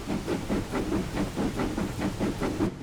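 A Castle Class steam locomotive in the Train Simulator 2016 game, on the Riviera Line, gets its brakes released and chuffs in a steady, even rhythm of soft steam bursts over a constant hiss.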